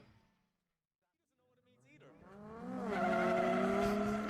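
Drift cars in a British Drift Championship battle, a PS13 among them, sweep round the last corner, engines rising from near silence into a loud, sustained high-revving roar with tire squeal, while a commentator talks over it.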